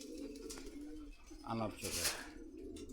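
Caged pigeons, including a bred master pair, coo at a Dhaka bazaar amid market bustle, with a person speaking briefly over the low cooing and a louder burst of noise near the middle.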